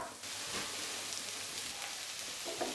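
Onions frying in a little oil in a hot pan, a quiet, steady hiss and crackle like light rain that continues evenly at low volume, with no voice over it.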